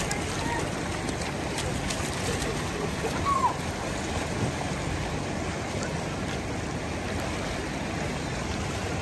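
Water of the Narmada river at a bathing ghat, a steady broadband wash of flowing and lapping water, fairly loud and continuous, with faint background voices.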